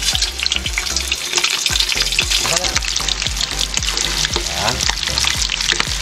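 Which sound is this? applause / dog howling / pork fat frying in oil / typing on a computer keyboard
pork fat frying in oil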